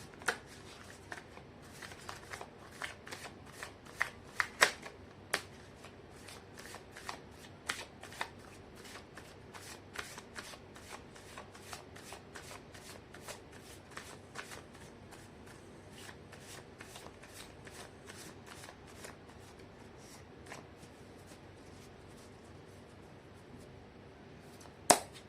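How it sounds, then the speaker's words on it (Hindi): Tarot cards are shuffled again and again at close range, a quiet, steady run of soft riffling flicks and sharper card snaps that continues throughout with no talking. "मैं कर लेती हूँ कार्ड की शफलिंग।"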